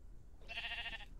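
A single short Minecraft sheep bleat, faint and clear over a quiet low background hum.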